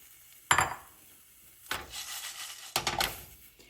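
Spices dry-roasted in a pan over low heat for mutton rasam, stirred with a few separate scraping sweeps and clinks against the pan, close and fairly soft, with quiet pauses between strokes.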